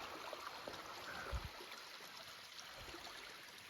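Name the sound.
creek water flowing in the woods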